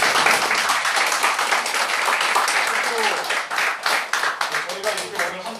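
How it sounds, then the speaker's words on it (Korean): Audience applause for bereaved families and teacher Kang Dae-won at a memorial gathering, a dense, loud wash of many hands clapping that runs the whole time and thins slightly toward the end. "가족분들과 강대원 선생님께 큰 박수 함께"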